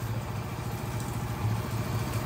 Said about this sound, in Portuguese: Olha a curva de alta da moto.